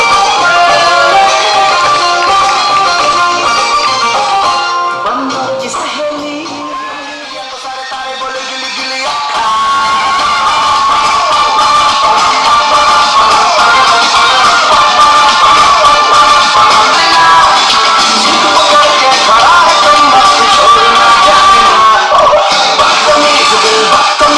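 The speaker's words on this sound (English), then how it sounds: "Give them a big round of applause, everyone." Wedding guests at the Palace of the Lost City cheer and shout loudly for the couple's dance entrance. The roar eases briefly midway, then swells back to a sustained, full level.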